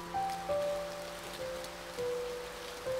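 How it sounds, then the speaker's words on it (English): Rain falling in the video game A Bird Story, a soft, steady hiss of rainfall at low level, with a few thin tonal notes from the game's music drifting over it and no voices. "Oh, okay, so now we've got rain everywhere."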